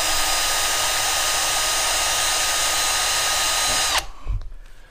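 A power drill on low speed with its bit boring out a broken tap in metal, a loud steady whine running for about four seconds before stopping abruptly, followed by a few faint clunks.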